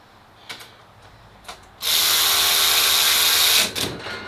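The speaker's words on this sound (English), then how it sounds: "invest in one of these little drills" A small power drill drives fasteners into trailer brackets inside an enclosed pressure-washing rig trailer, one loud sustained whirring burst of nearly two seconds after a few faint clicks, then winding down.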